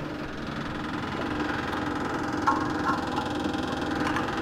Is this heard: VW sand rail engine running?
yes